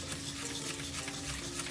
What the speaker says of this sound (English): I'm just going to mix the butter and the sugar together.